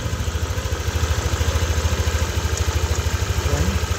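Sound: Yamaha Nmax V2 idling engine with small ticking rattle

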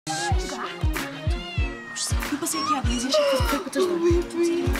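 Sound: cat meowing

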